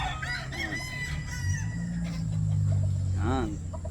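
A gamefowl rooster, a Perfection roundhead crossed with Gilmore, crows loudly and close by, with other fowl clucking and crowing around it and someone talking in the background.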